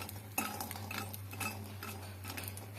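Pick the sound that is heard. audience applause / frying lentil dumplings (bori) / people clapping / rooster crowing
frying lentil dumplings (bori)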